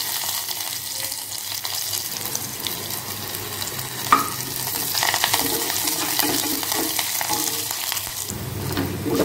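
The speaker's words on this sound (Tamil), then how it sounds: "வெங்காயத்தை நல்லா வதக்கிக்கலாம்." Chopped onions with curry leaves sautéing in a pan for lady's finger sambar, a steady close sizzle with occasional scraping and clinks of stirring, swelling slightly midway.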